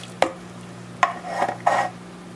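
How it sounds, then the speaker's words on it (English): Diced tomatoes and green chilies go into a pot of slow-cooked chili with drained kidney beans: three short, close, wet clunks and scrapes against the pot, with no talking. "I'm going to add some of this diced tomatoes and green chilies."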